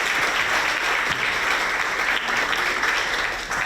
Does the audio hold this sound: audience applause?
yes